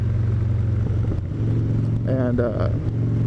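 A 2013 Harley-Davidson Street Bob with a 96 cubic inch engine and Cycle Shack exhaust gives a steady, deep rumbling drone while riding, with a brief voice-like sound rising over it near the end.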